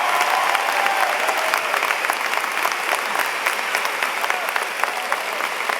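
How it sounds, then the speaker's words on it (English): Sustained applause from a large high school graduation audience honoring valedictorians and salutatorians, steady dense clapping throughout at even loudness, with a faint murmur of the crowd underneath. "can we have a nice round of applause for all our valedictorians and salutatorians?"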